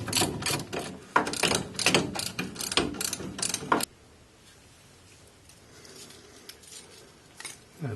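A hand ratchet clicks in quick bursts while undoing the nuts on the back of an MG Midget front brake caliper, close and sharp, then falls away to quiet workshop background.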